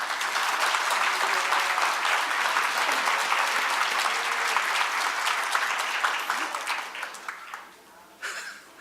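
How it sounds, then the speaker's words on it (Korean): A church congregation bursts into sustained applause, dense and loud for several seconds before thinning out near the end, with a few murmured voices among the clapping. "우리 박수 한번 쳐주시기 바랍니다"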